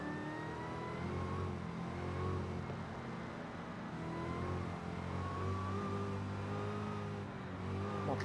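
A Fortnite car cruises and does burnouts, its engine revving continuously with rising and falling pitch sweeps, loud and close, tyre and motor noise blending over about eight seconds with no talk.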